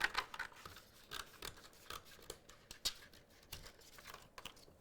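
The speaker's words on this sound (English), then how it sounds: "I'm going to grab my scissors, cut off this excess backing" Repeated snipping of scissors cutting through thin vinyl backing sheet, crisp close clicks in an uneven rhythm with faint crinkling between cuts.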